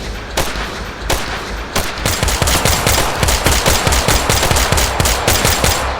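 Rapid automatic gunfire from the VR shooter game Tactical Assault, with a few separate loud shots followed by dense, fast bursts of rounds that continue for several seconds, sharp and close.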